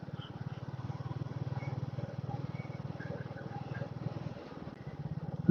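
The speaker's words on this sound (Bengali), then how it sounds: "বাইক চালাচ্ছি" A motorcycle ridden along a village road on a weekend trip from Kolkata to Purulia: a steady, close engine drone with a low throbbing rumble that holds evenly throughout, with no voices.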